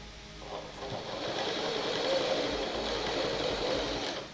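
A sewing machine stitches blouse fabric with a soft, steady whirring run lasting several seconds and no talking.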